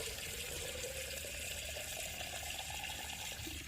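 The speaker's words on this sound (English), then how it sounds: "Turn our little faucet on." Water running from a small faucet into a container on a spring homestead, a faint, steady rushing stream with no talk over it.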